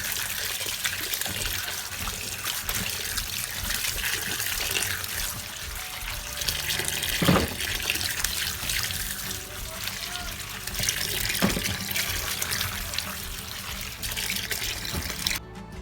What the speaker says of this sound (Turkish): Çileklerimizi yıkıyoruz.